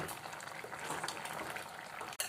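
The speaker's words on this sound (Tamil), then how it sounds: "பொரிச்சிக்கிட்டு இருக்கு." Tamil kuzhambu curry bubbling and sizzling in a pan, a close, steady crackle and boil that runs throughout, with a sharp click near the end.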